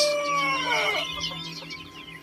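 Silkie chickens in a backyard farm coop give a close, clear cluck and warbling call that trails off into softer murmuring, with no voices present.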